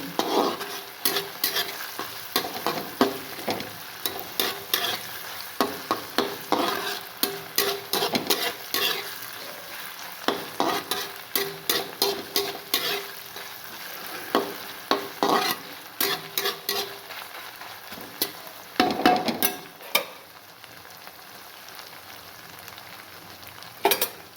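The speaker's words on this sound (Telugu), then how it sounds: "ఫ్రై అవుతుంటే మంచి ఆనియన్ వాసన వస్తుందండి" Onions fry in a pan while being stirred, a steady sizzle under repeated rhythmic spoon scrapes and clinks against the pan, close and moderately loud, the strokes thinning out near the end.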